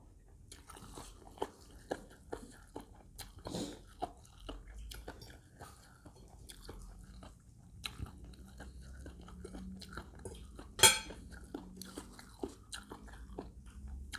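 Someone eats spicy Isan koi with rice noodles, white wood-ear mushrooms and fried meatballs, close-up wet chewing and crunchy bites with frequent soft clicks, steady throughout and without talk.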